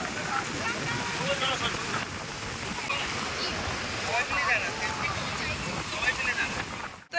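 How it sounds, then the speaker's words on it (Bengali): Ocean waves at a sea beach in Tajpur, a steady low wash of surf with broad rushing noise and wind, close and continuous, with people talking over it. "আর এই যে সমুদ্র"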